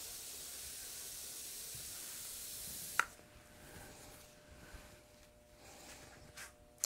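Airbrush spraying face paint with white highlight for a Maleficent design, a soft steady airy hiss that stops with a faint click, then quieter intermittent spraying and handling noises follow, close and alone without talk.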